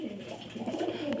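A pigeon coos close by, giving a soft, low, throaty coo that lasts about a second with no voices over it.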